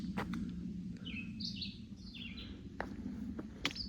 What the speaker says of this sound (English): not a sound other than the birds chirping